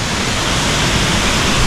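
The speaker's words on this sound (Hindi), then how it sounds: "यहाँ पर है वाटरफॉल, देखिए फाइनली" Langvoku waterfall in Karbi Anglong, Assam, pours as a loud, dense, unbroken rush of falling water, close by and steady, with no voices.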